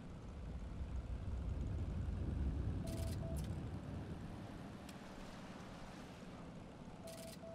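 A boat moving on water in Heroes and Generals, a steady low rushing wash with waves and engine rumble, fairly loud and continuous, with a few faint clicks and beeps over it.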